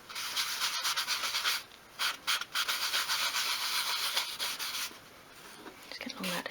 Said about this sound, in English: I'm going to leave the piece on the worktop and just rub that in